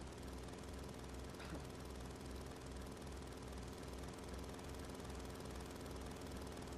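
A helicopter in the Final Fantasy VII video game gives a faint, steady engine drone with a low, regular rotor throb that holds unchanged from start to finish.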